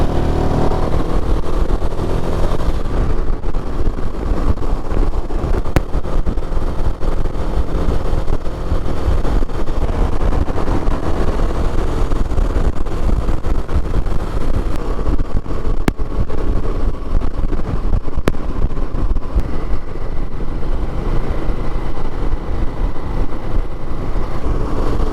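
A Royal Enfield Himalayan 450 motorcycle rides along a road, its engine drone steady and loud under constant buffeting wind noise throughout, with no talking.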